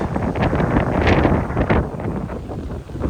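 Loud, rumbling wind buffeting the microphone continuously, with gusty surges and no voices present.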